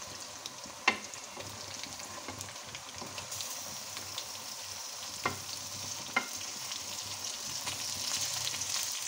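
Chicken fries in a pot for biryani, a steady quiet sizzle with occasional sharp clinks and scrapes of a utensil against the pot, growing slightly louder toward the end.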